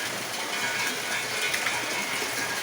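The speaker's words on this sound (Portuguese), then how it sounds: "É chuva com força." Heavy rain pours down steadily outside a house window, a dense continuous hiss with no breaks, fairly loud and close with no voices over it.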